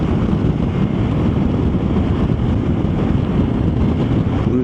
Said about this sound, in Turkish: Bildiğin rüzgar çok fazla.